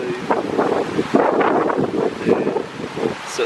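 Cold wind gusting steadily near a river in the Tararua hills, a broad continuous rushing roar with surges, buffeting the microphone close up throughout.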